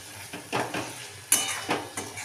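A spoon scrapes and clinks against a pot while gram flour mixed with salt and chopped ridge gourd is stirred, giving about six rhythmic, close, fairly loud scraping strokes with no talking.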